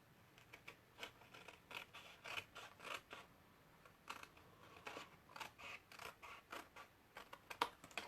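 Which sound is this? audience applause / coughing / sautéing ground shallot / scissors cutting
scissors cutting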